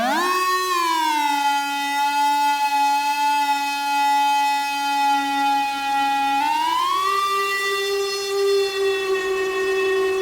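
A synth oscillator in an ambient instrument called the Steampipe is tuned through a delay box, giving a sustained, harmonic-rich tone that glides up at the start, holds steady, then slides up to a higher pitch and holds, loud and alone.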